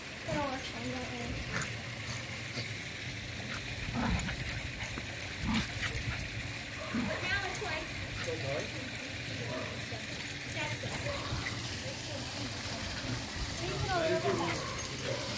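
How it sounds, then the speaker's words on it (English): Several dogs bark, yip and whimper as they play, set against a steady background. People talk over them throughout. "These dogs are having fun."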